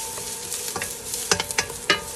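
Garlic sautés in a pan with a steady, soft sizzle, close by, and several sharper scraping strokes from stirring near the end.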